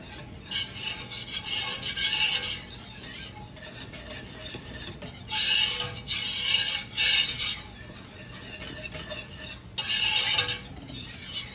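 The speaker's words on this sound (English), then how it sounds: "Give it a stir." Spoon stirring wild rose jelly mixture in a bowl, scraping and rubbing in three distinct bursts of a second or two each, close and fairly soft, with quiet pauses between.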